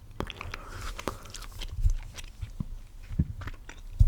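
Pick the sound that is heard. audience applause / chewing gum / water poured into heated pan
chewing gum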